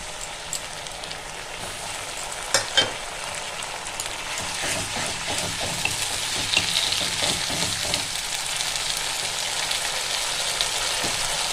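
Onion, garlic and ginger fry in a pan for a banana stem dish, a soft continuous sizzle with a couple of sharp utensil knocks early and busier stirring scrapes toward the middle.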